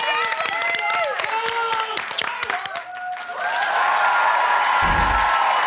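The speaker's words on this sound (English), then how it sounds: "round of applause for Bradley." Big Brother Australia 2012 live studio audience cheers and claps at a live nominations show, with excited shouts and whoops over the clapping at first, then a sustained roar of applause and cheering with a brief low thump near the end.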